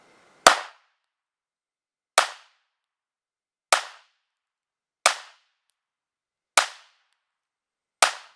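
Six sharp Glock 43 9mm pistol shots fired at a 5-yard target, each a loud crisp crack with a short decay, spaced roughly one and a half seconds apart, with no talking.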